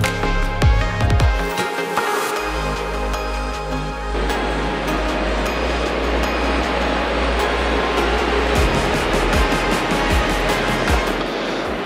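Augrabies Falls in flood roars as a steady, broad rushing wash of water, loud and continuous, with some tonal hum and clicks from nearby at the start.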